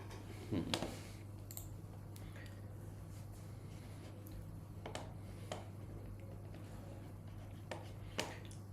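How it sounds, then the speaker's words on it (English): Sparse, faint clicks of a computer keyboard come at irregular intervals as arrow keys are pressed during game development, over a steady low electrical hum in a quiet room. "If I click on the up button of the keyboard, it will walk forward."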